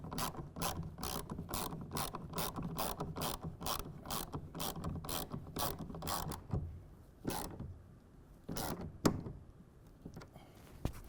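A ratchet wrench clicks in a rapid, even series of close, crisp strokes while tightening a clamp on a RealTruck UnderCover Ultra Flex hard folding tonneau cover, then slows to a few separate clicks and clunks.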